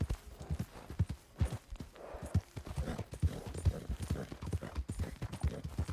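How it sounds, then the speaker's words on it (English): A horse ridden at a steady pace in Red Dead Redemption 2 sounds its hooves in a continuous clip-clop rhythm, each thud close and distinct. "that's how Arthur rides his horse"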